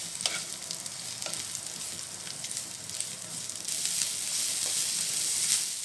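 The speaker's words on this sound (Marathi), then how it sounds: "कांदा छान लाल रंगावर मी परतून घेणार आहे." Chopped onion frying in a spoonful of oil in a home kitchen pan for a Marathi coriander dish: a steady, close hiss and sizzle with occasional scraping stirs, growing a little louder near the end.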